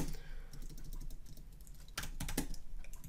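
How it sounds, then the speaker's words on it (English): Someone types rapidly on a computer keyboard, close and continuous, with a dense patter of clicks and a few louder key strikes. "I'm typing too fast."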